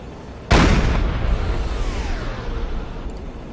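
A deck gun shells a ship in Silent Hunter 4, giving one sharp heavy blast that rolls into a long rumbling boom and slowly fades away.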